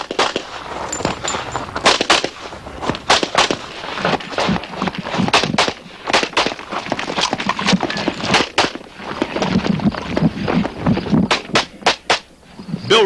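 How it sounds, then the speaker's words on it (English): A stock Glock 45 pistol fires at a USPSA competition stage, with loud, sharp reports coming in quick clusters and short pauses throughout, close and punchy with some echo. "Here he is at Stage 2, runner, shooting a Glock 45 stock gun"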